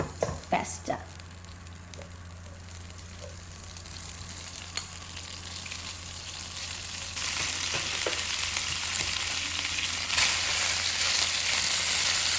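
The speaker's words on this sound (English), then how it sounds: "While I am stir frying, what I am going to do here is I will add a little salt." Pasta with spinach and crab meat being stir fried in a pan gives a steady sizzle that grows louder and denser after the first few seconds, with occasional scrape and stir knocks, close by.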